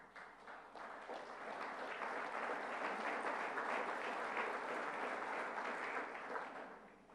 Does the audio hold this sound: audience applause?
yes